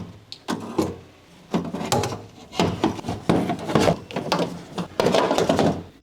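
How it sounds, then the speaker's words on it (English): A new window regulator for a 1996 Honda Civic EK 1.6L left front door is fed through the door's access hole, giving close, irregular scraping, rubbing and knocking of metal parts against the door panel. "Feed the new window regulator into the door through the access hole."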